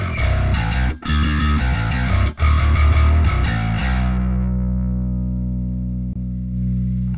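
A heavily distorted bass guitar plays a gritty, buzzing modern metal riff with a few brief gaps, then one last note rings out and slowly fades.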